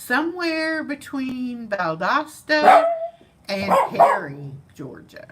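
A dog barks and yips in short, noisy bursts indoors on a morning somewhere between Valdosta and Perry, Georgia, mixed in with a person talking steadily nearby.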